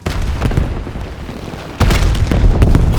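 Cluster grenade going off in Call of Duty, a loud dense rumbling blast with a second, heavier burst of scattered explosions about halfway through.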